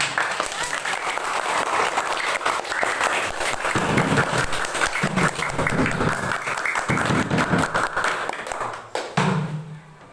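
Loud, dense applause from a group of students clapping together in a classroom, with some voices mixed in, tapering off near the end.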